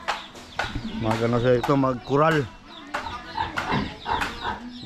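Farm chickens cluck in short, close bursts while a person talks over them.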